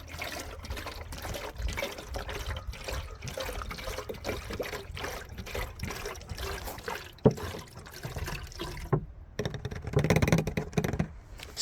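Water poured through an old mini motorcycle gas tank to rinse out rust, a continuous sloshing trickle and gurgle up close, with splashier bursts toward the end.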